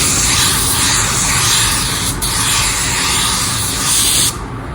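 A spray gun lays a second coat of paint on a panel, a loud, steady close hiss that runs unbroken and cuts off near the end.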